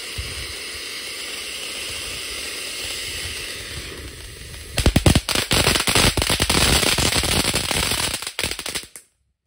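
Size 4 fountain firework burning during Ramadan: a loud, steady hissing spray that turns into dense, rapid crackling and popping bursts, then cuts off abruptly.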